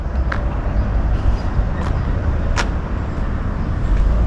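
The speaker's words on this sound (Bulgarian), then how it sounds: "Ето го камиона." Iveco truck passing by on a road, a steady broadband vehicle roar holding at constant loudness throughout, with a few brief higher clicks and rattles over it.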